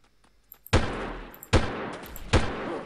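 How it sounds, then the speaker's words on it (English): Gunfire in the Delta Force video game, three sharp, loud bursts of shots spaced about a second apart, each trailing off in a decaying echo, with faint clicks between and no talking. "Somebody is shooting me"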